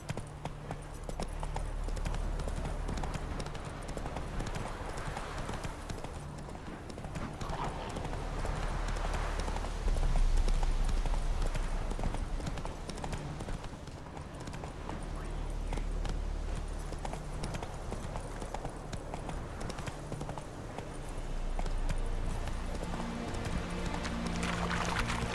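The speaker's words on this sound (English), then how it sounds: "so fast, Roach" Hooves of a horse galloping in The Witcher 3, a rapid, steady clip-clop heard near and at moderate volume for the whole stretch, with no clear speech over it.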